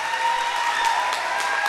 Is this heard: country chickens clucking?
no